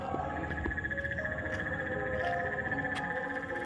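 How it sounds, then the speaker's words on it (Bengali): Frogs croak in a steady, dense chorus from several directions, with insects trilling alongside. The calls are continuous and fairly loud, with no talking. "বাবা ব্যাং ডাকছে"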